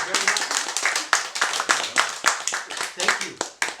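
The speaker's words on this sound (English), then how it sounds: "So, Mike Janssen, give him a round of applause." Audience applause for author Mike Janssen at a Dutch science fiction authors' event, a small room of people clapping with distinct individual claps in an irregular patter, close and lively, lasting several seconds.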